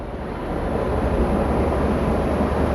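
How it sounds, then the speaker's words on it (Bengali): A toy train passes along the hill route toward Narkanda in Himachal Pradesh, heard as a steady, loud, rumbling roar that fills the whole stretch with no voices over it. "টয় ট্রেন যাচ্ছে"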